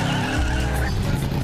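Tires skid and squeal on a car in the Ford v Ferrari racing film, a loud sustained screech over a deep engine roar lasting the whole moment.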